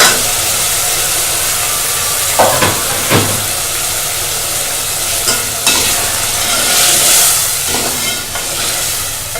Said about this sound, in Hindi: ये मैंने देसी घी में प्याज ब्राउन कर लिए हैं। अब मैं इसमें ये 2 टमाटरों का पेस्ट जो मैंने बना कर रखा था ये डाल रही हूँ।